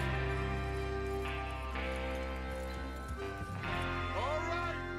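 Horses in Red Dead Redemption 2 move with soft clip-clop hoofbeats and a brief whinny, set among a steady game soundscape with music and people talking over it.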